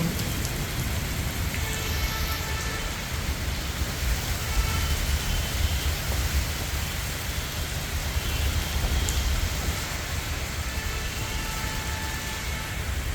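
Steady rain falls in Bangalore during a thunderstorm, a dense, even hiss of drops on surfaces, moderately loud and continuous with no voices.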